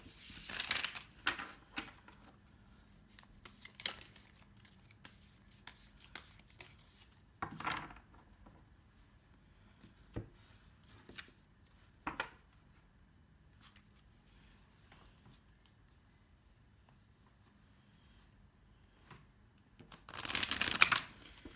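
Tarot cards being shuffled for a reading give a few short, soft riffling bursts separated by quiet pauses, ending with a louder shuffle.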